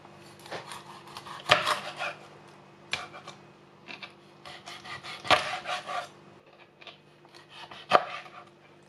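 Fish being cut into pieces with a knife on a cutting board, a few sharp chops spaced irregularly among softer scraping and rubbing sounds, close up with no talking.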